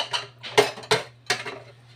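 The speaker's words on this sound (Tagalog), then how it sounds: "Ganito ako maghugas kasi pag ako naghugas kasama lahat, pati mga kaldero, kawali." Dishes, pots and pans clank and clatter while being washed, a few sharp close metallic knocks spaced irregularly over a steady background hum.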